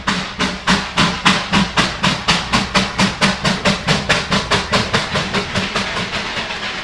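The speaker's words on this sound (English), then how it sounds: "With the locomotive's exhaust echoing all around" A steam locomotive climbing a hill on the Darjeeling line chuffs loudly and rhythmically up close, its exhaust beats coming in a steady, slightly quickening pulse with an echoing hiss.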